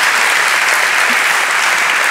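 Steady, dense applause from a live audience at a podcast recording, sustained and evenly loud for a couple of seconds with no break.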